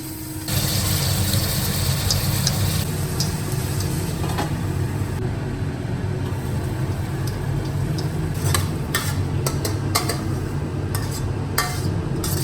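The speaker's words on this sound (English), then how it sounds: "The second dish was stir-fried pork with garlic sprouts." Pork and homemade garlic sprouts are stir-fried in a home kitchen in rural China, with a constant low sizzle and hiss under sharp clicks and scrapes of a spatula against the pan.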